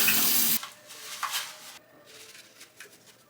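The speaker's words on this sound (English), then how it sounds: "you can use dishwashing soap to rinse out the container and then let it air dry" Water runs loudly from a tap into a sink for a brief burst while a Navage nose cleaner container is rinsed, then drops to quieter splashing and handling sounds.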